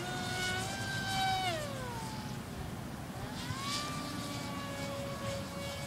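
A Hawksky RC plane flies at half throttle, its motor whine rising and falling in pitch as it passes and climbs, moderately loud and steady with no talk.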